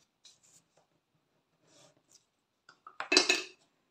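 A pen scratches a few short marks onto cardboard while building a vintage scrapbooking mini-album, soft and close, ending in a brief firmer scrawl.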